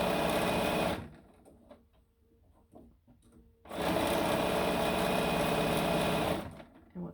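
A sewing machine stitches quilt fabric strips for a rail fence block, running in two loud, fast bursts of stitching separated by a quiet pause of a few seconds, with a brief final whir.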